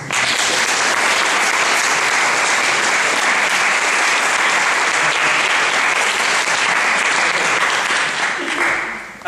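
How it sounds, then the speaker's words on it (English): An audience at a science lecture on hydrogen fuel cells bursts into loud, sustained applause, dense clapping filling the room before tapering off at the very end. "That's a round of applause."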